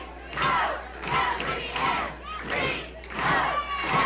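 A home crowd at a high school football game roars and chants in loud, surging waves, repeated bursts of massed shouting swelling and dipping in a steady rhythm, with no talk over it.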